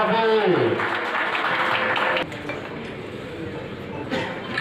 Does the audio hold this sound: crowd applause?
yes